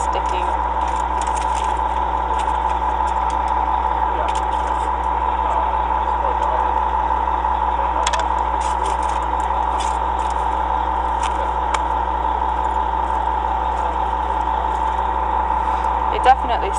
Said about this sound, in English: there's a bus behind us